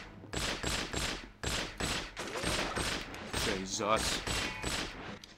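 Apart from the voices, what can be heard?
gunfire in From Russia With Love video game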